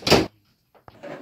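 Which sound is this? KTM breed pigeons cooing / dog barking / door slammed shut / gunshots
door slammed shut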